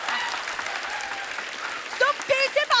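Studio audience applause on an Indian comedy show, a rushing spread of clapping at moderate loudness throughout, with a voice speaking over it toward the end.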